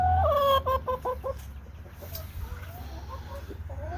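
A pet chicken clucks close by, a few quick rising clucks and calls at the start, then fainter scattered clucks over low background rumble.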